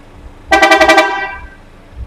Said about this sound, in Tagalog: Testingin mo muna yung busina.